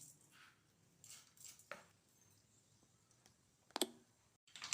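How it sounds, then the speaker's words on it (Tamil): Mustard seeds popping in hot oil in a kadai while tempering for a tomato kootu: scattered sharp crackles and pops at close range, sparse and irregular with short gaps of quiet between them. "இதை பாருங்கள், கடுகு பொரிஞ்சிருக்கு."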